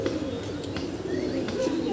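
Pigeons cooing inside a loft, a steady low murmur of coos running throughout with a few faint chirps above, close and continuous.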